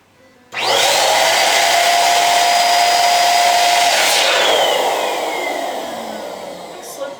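An electric balloon pump inflates balloons for a blue and gold balloon garland, switching on abruptly with a loud, steady high whine that holds for several seconds and then slowly winds down in pitch.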